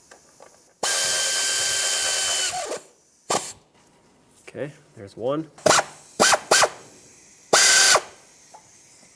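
Power tool whirring as timing cover bolts are snugged down on a Lexus ES 300 engine, with a long steady run, then several short bursts, close and loud, alternating with brief speech.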